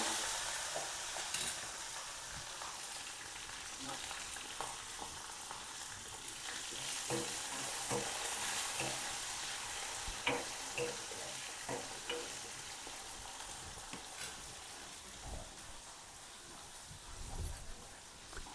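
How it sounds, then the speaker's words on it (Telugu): Cumin seeds, fenugreek and green chillies fry in hot oil for a coconut and raw-mango chutney, giving a steady low sizzle with scattered small crackles and pops, the spitting continuing throughout without any voices. "నూనె వేడైంది కొంచెం జీలకర్ర కొన్ని మెంతులు పచ్చిమిర్చి"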